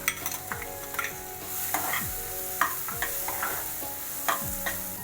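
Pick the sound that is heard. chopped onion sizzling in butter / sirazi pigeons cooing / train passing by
chopped onion sizzling in butter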